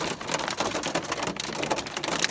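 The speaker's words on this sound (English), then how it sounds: "Just getting crushed by some hail." Hailstones slightly larger than peas hammer a travel van in Colorado: a close, loud, unbroken rattle of sharp hits on the roof and panels, with nobody speaking.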